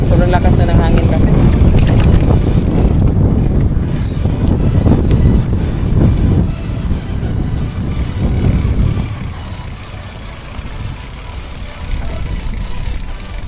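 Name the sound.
strong wind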